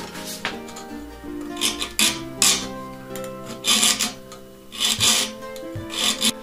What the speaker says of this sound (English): you keep the file at 90 degrees to the plate